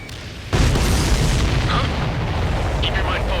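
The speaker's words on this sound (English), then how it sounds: "Missile away." A missile fired in the jet combat game Ace Combat 7 erupts into a sudden loud roaring rush that holds steady like a sustained blast and engine wash, with brief voice chatter over it.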